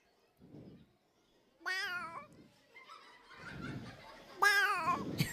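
A person imitates cats, with two separate meow-like wails acting out a cat fight, each rising and wavering, separated by stretches of low talking.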